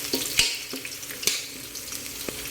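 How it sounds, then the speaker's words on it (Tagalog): Garlic and onion sautéing in a pan for a mixed seafood dish of mussels and shrimp, a steady close sizzle broken by several sharp utensil taps and scrapes, no voices. "Gisa-gisahin lang natin."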